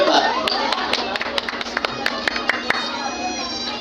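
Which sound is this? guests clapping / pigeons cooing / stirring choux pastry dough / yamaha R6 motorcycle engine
guests clapping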